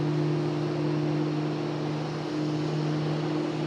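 Steady loud engine roar from a Frontier airliner running up its jet engines at Raleigh-Durham International Airport, a continuous drone with strong low hum tones and no talk.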